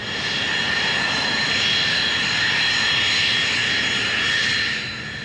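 A loud, steady aircraft engine drone holds as power comes up, a broad continuous roar with a high whine running throughout.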